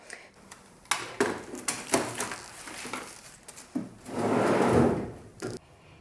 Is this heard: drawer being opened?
yes